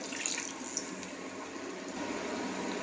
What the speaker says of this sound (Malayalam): നമ്മൾ ഇതിലേക്ക് ഒരു ഗ്ലാസ് വെള്ളം ഒഴിക്കുക